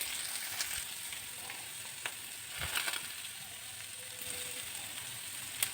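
Peanuts and onion frying in oil over a high flame, a steady broad sizzle running throughout with occasional stirring scrapes and crackles, close and fairly loud, no voices.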